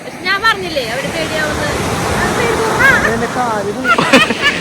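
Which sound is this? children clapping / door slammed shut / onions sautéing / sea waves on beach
sea waves on beach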